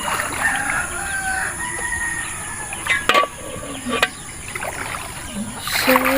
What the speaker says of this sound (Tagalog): Andito yung mga pasaway na manok, oh.